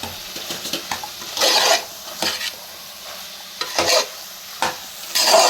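Spice powder mixture with tomato being mixed in a cooking pan, repeated spoon scrapes and clinks against the metal over a light sizzle, close and unaccompanied by speech.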